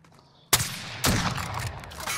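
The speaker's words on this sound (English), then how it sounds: "We're getting shot at still, lads." Gunfire in Call of Duty: Modern Warfare: two loud, sharp bursts of shots about half a second apart, the second one trailing into a rattling spray of fire.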